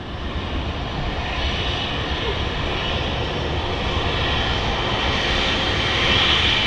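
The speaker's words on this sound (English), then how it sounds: "the triple is getting on the runway now" A Boeing 777 moves onto the runway at Manchester Airport, its jet engines giving a steady broad roar. The roar holds fairly even and swells slightly toward the end.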